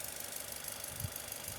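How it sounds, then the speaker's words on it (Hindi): A Tata Sierra engine idles quietly while its spinning fan belt adds a faint whir and light knocking rattle, with one brief low thump midway. "ये इस फैन बेल्ट की आवाज़ है जो आप लोग सुन पा रहे हो, ये वाली जो घूम रही है ना,"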